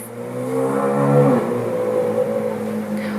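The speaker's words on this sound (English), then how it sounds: "3 sports cars just drove by my street" Sports cars passing along a residential street, a steady mid-pitched engine drone that swells and shifts in pitch around the middle as one goes by, then holds on at a constant level without speech.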